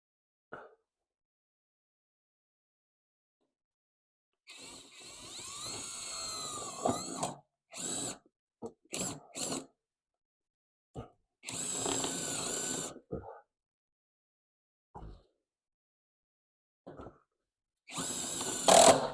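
A power drill drives screws into a rusted body panel on a 2007 Ford Mustang during a rust repair, firing in several short, close whirring bursts separated by silent pauses.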